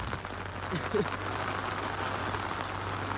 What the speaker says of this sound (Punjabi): ਯਾਰ ਦਰਖਤਾਂ ਕਰਕੇ ਨਹੀਂ ਮੀਂਹ ਹਟਦਾ